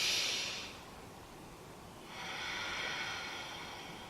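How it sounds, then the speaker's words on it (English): Deep yoga breathing heard up close: one long airy exhale that fades, a short pause, then a slow inhale building into another sustained breath, soft and without any talk. "Deep breath in and out."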